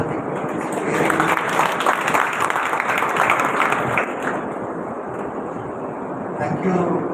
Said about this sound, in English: Please join your hands to clap with the group